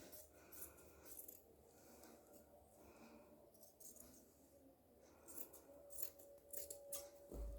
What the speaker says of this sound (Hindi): ये हमारी स्लीव्स कट हो गई